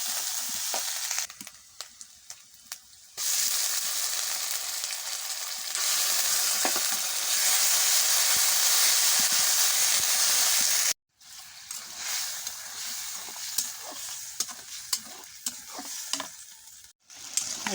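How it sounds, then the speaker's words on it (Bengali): Ground onion paste sautéing in a pan for a fish curry, with loud, steady sizzling and frying hiss broken by stirring scrapes, dropping off briefly in places before the sizzle returns. "পেঁয়াজটা কিছুক্ষণ সুন্দর করে ভুনাবো"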